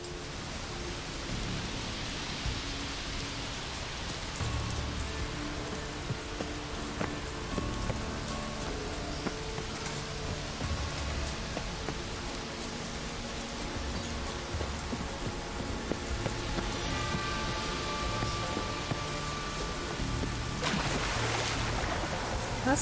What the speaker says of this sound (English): Really, really cold rain.